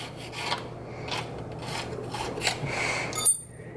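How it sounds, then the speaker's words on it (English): A razor blade scrapes old gasket material off thin metal on a Lawn-Boy Dura-Force mower engine, producing close, repeated rasping strokes in a steady rhythm that ends with a brief sharp scrape. "I'm just going to come in with my razor and just carefully scrape it off."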